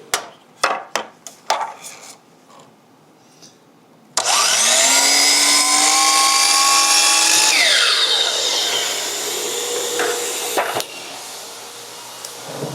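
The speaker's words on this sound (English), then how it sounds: "I'm going to turn this around real quick and make a mitered cut." A power saw cuts a miter in cabinet trim, first a few sharp knocks as the piece is set, then a loud, close whine that spins up, bites through the wood, and trails off as the blade winds down.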